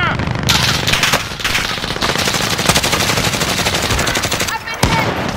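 Sniper and automatic gunfire in a video game, loud and dense, with rapid rattling bursts running almost without a break and a few sharper cracks standing out near the end.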